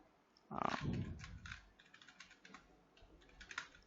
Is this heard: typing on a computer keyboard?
yes